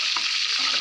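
Fish frying in a pan on a home stove gives a steady, close hiss and sizzle of hot oil that holds at a constant level throughout.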